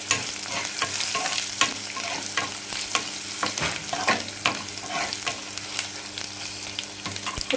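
Curry leaves, cumin, urad dal, mustard seeds and asafoetida sizzling in hot oil for pappu mullangi, a steady close crackle broken by frequent scraping stirs.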